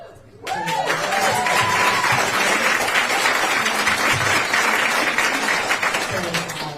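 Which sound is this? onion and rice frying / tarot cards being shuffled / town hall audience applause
town hall audience applause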